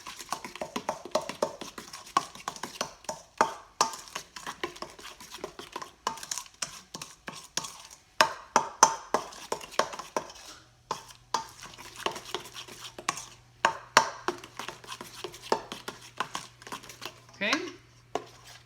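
Ingredients for a vegan Velveeta-style cheese sauce for baked cauliflower are stirred together in a bowl, with scraping, clinking utensil taps and irregular knocks up close, a low hum joining partway through.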